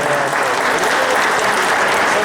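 A hall audience at a sports club's 90th anniversary celebration gives dense, continuous applause for silver badge laureates, loud and unbroken.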